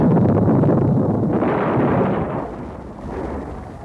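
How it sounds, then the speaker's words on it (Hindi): A huge explosion from gunpowder catching fire in a Delhi magazine during a radio play, a dense roaring blast that rumbles on and slowly fades, heard alone without voices. "ये कैसा खौफनाक धमाका था?"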